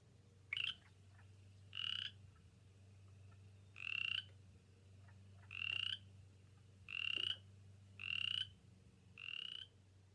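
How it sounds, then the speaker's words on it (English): A cricket chirps in short, evenly spaced bursts, about seven in all, over a faint low hum. "And now, finally, let's listen to the cricket."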